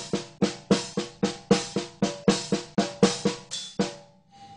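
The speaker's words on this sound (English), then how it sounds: "it's a combination of the Swiss Triplet Blast with the" Drums played with hands only, no feet, in a Swiss triplet blast with flam tap: a quick, even pattern of about fifteen strokes, each landing as a sharp accent, ending on a faint ringing bell-like tone.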